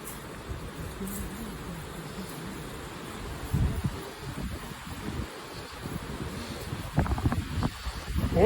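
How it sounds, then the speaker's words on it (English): Wind buffets the microphone in uneven rumbling gusts on Cumberland Island, strongest in the final few seconds, with faint rustling in the background. "Oh, it's so windy up here."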